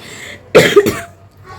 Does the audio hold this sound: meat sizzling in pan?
no